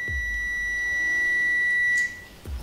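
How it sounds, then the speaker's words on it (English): An Owon 18E digital multimeter in continuity mode gives one steady, high-pitched beep lasting about two seconds, close and clear, before cutting off. "Select continuity. It will beep"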